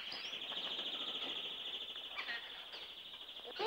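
Cartoon birds calling on a farm with a duck, rabbit and parrot nearby, a continuous high shrill chirping trill that carries steadily, briefly broken by a few sharper squawks near the end.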